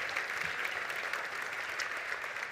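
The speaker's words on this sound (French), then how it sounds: "merci tout le monde d'applaudir chaleureusement notre grand diplômé Philippe Marquis." Audience applauding at a university graduation ceremony, a steady, dense wash of clapping from a large crowd that holds evenly through the moment.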